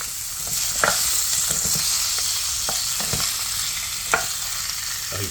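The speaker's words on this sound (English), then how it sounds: "I'll stir it with this spoon so we can get rid of the sauce." A spoon scrapes and stirs Pad Krapow sauce in a pan, with a steady sizzling bed and several sharp clinks and scrapes, loudest near the start and around four seconds.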